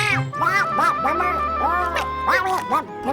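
Cartoon duck quacking in a French-dubbed animated episode, a run of bright, nasal, bouncing quacks over a low sustained tone and music, loud and close with no talk.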